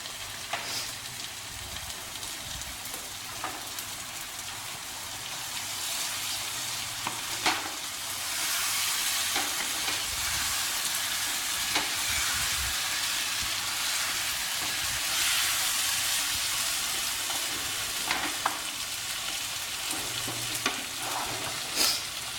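Chicken peshawari frying in a kadhai as chopped green chillies go in, giving a steady, dense sizzle with occasional louder spits and stirring scrapes, close and continuous with no talk.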